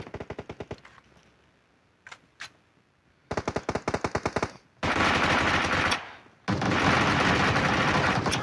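Gunfire in the mobile battle royale game PUBG Mobile: short rapid automatic bursts, then two longer sustained streams of loud continuous fire.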